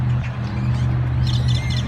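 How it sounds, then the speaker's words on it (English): A flock of birds chirps in trees at an HEB supermarket parking lot, with small scattered tweets over a loud, steady low hum of traffic or machinery. "I don't know if y'all can hear this, but all these birds at HEB, sometimes it looks like Alfred Hitchcock's,"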